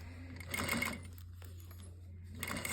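A sewing machine runs in short, fairly quiet stitching bursts while a set-in sleeve is attached, with a low steady hum underneath and brief pauses between runs.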